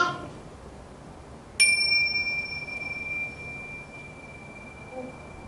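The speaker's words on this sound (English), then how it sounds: "I'm going to use the bell for a second." A single meditation bell is struck once, ringing clear and bright with a long, steadily fading sustain in a quiet room.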